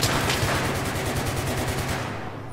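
Sustained automatic gunfire in the Battlefield 3 video game, rapid overlapping bursts of shots forming a dense, loud continuous rattle close by, fading slightly at the end, with no talk.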